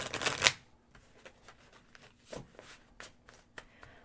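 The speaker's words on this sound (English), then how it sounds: "So I am shuffling a deck here" A deck of tarot cards is riffled in one quick burst, followed by softer taps and slides of the cards being handled and squared, close by in a quiet room.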